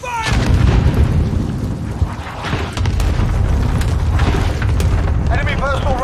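Cluster strike explosions in Call of Duty: loud, sustained rumbling booms rolling one into another for several seconds, close and heavy, with game voice callouts layered over the blasts.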